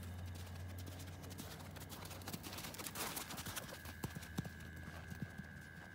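A horse cantering in a riding arena gives faint, muffled rhythmic hoofbeats under steady background hum, with a few sharper thuds toward the end.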